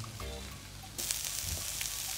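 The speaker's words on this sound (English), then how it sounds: "You hear that sizzling?" Peppers, garlic and shallots sizzle loudly in a hot pan, a steady crackling hiss that jumps up sharply after a soft start, close by.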